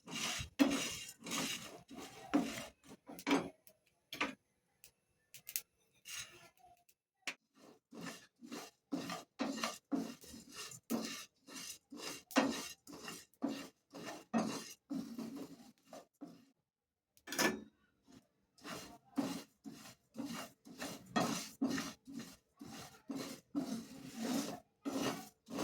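Spices being dry-roasted in a pan over a low gas flame for bhakarwadi: a steady run of repeated scraping and rasping stirs against the pan, close and moderately loud, with short pauses and no talking.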